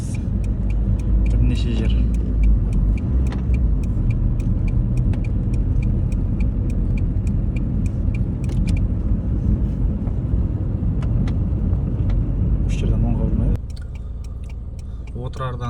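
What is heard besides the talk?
car driving on a rural road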